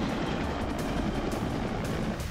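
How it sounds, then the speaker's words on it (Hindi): Helicopter rescuing people stranded by flooding in Jalore, Rajasthan, heard as a continuous low rotor and engine rumble, steady and fairly loud with no clear voices. "कहीं हेलीकॉप्टर से लोगों को बचाया जा रहा है"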